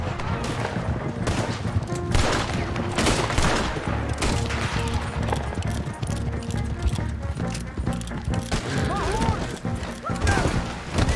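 Gunfire and dense volleys in Red Dead Redemption 2, a Western video game, with galloping horse hooves, crashes and shouting voices throughout a loud, continuous battle scene.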